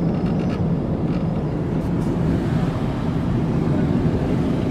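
A steady, heavy roar of the May 20, 2013 Moore tornado, heard from about a mile away, fills the whole stretch, broad and rumbling like a distant jet engine, with no break.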